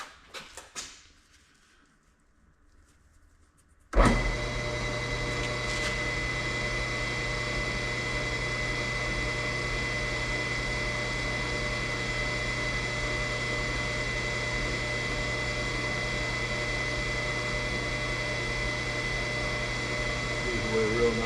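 After a few quiet seconds a lathe starts and runs with a steady loud hum and whine while a blade cuts a Unimog kingpin seal, continuous to the end.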